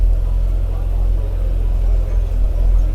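A Mercedes-Benz W201 with a 2.6 engine idles at a Mercedes-Benz club cars-and-coffee meet, giving a steady, close, deep rumble that holds evenly throughout.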